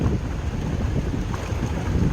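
Water rushes continuously at Puthikunta waterfall, a dense, even roar close by, partly buffeted by wind noise.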